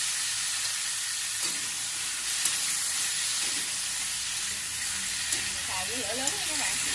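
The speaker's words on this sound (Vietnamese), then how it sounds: "Xào với lửa lớn nha các bạn, cho nó giữ được cái màu xanh của nó" Asparagus stir-frying over high heat in oil with garlic and shallot, a steady loud sizzle and hiss running throughout with a few scraping stirs near the end.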